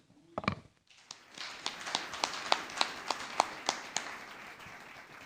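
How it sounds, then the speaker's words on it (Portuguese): A church congregation gives a round of applause for Jesus during a sermon: a faint bump, then a run of fairly regular claps over a low background, heard from a distance. "Uma salva de palmas para esse Jesus"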